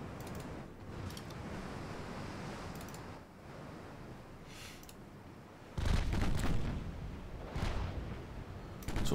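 Torpedo hits on ships in a naval video game about improved Japanese dreadnoughts: a continuous rushing wash of water and wind noise, then a heavy, loud burst of booming impacts that stays forceful with further surges.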